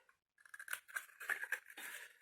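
Scissors snip through paper tabs on a Minnie and Mickey advent calendar craft, a run of short crisp cuts following a brief pause, close and fairly quiet with no talking.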